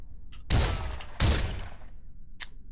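Two loud pistol gunshots in the Cataclysm DDA video game, about 0.7 seconds apart, each with a sharp crack and a decaying tail, followed by a faint click.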